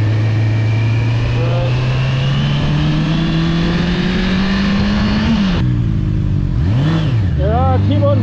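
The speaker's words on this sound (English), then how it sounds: "keep on revving it too much" Honda motorcycle engine, a CBR650R or CB1000R on a test ride, revving loudly and close with a rising pitch, then easing off and revving again in short bursts, with continuous wind noise.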